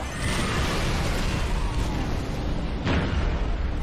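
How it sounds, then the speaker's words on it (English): Fireworks exploding in the video game Halo Reach, a loud roaring burst of booms and crackling blasts, with a sharp fresh pop near the end. "Fireworks! Pretty blue colors, too."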